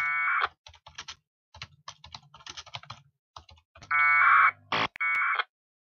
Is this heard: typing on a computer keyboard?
yes